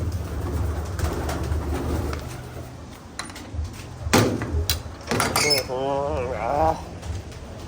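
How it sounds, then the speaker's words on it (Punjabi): Pigeons coo in low throaty bursts amid shuffling and clattering handling noises, with a few sharp knocks and a louder warbling coo near the end. "ਇਧਰ ਵੱਡੇ ਕਬੂਤਰਾਂ ਨੂੰ ਰੱਖ ਕੇ"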